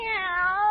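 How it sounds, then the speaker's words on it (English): A kitten meows once in a single drawn-out, slightly wavering cry, close and clear with no talking over it. "She's only a kitten."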